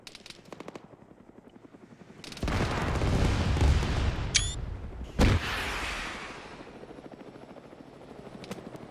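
Military helicopter rotor roar swelling in loud and close during a combat video game, with sharp gunfire bursts and a boom cutting through, fading back to a steady background drone.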